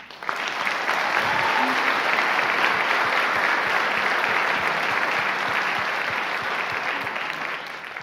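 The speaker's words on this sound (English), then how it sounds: "let's give them a round of applause" A crowd applauds the candidates at a county executive debate, dense and loud clapping sustained evenly for several seconds before tapering slightly at the end.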